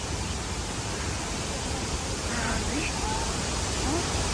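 Rushing water roars steadily, a dense, even hiss of a waterfall, loud and unbroken, with faint voices barely audible beneath it.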